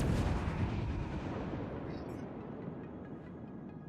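Naval gunfire from the Moskva battleship in the game World of Warships, heard as a single deep, booming salvo at the start that rumbles and slowly fades away.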